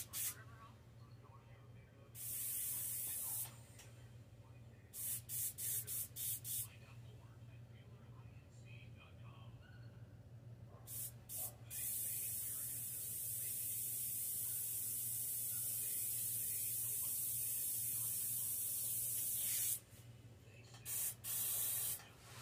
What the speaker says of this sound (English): I'm going to turn my airbrush down to about 20 for all of this.